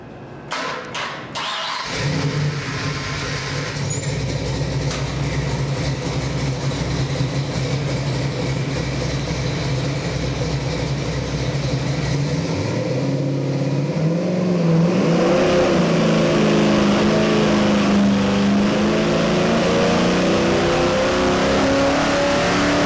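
A Ford engine cranks briefly and catches, then runs at a steady rumbling idle before being revved up higher near the end, loud and close with no talking.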